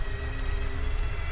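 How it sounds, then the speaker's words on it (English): Steady rain patters outside in the video game Diabolus in Musica, a soft continuous hiss with low rumble and a faint tonal hum, even and unbroken throughout. "listening to the pitter-patter of rain building up outside"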